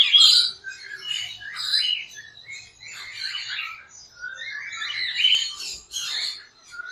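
A charcoal breeder pair of pet birds calls close by in a run of sharp, high chirps and squawks, repeated in short bursts with brief gaps and no talking.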